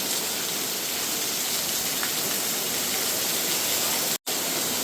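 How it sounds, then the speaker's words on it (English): Heavy rain pouring down outdoors, a dense, steady hiss of downpour that stays loud and even throughout, broken by a brief dropout near the end. "the rain is hammering"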